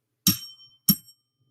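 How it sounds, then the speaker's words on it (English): A small handheld garbage bell rings twice with bright, quick metallic dings about half a second apart, each decaying fast into silence in a quiet room. "So I got myself a garbage bell."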